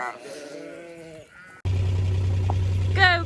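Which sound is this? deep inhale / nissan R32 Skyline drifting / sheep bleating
sheep bleating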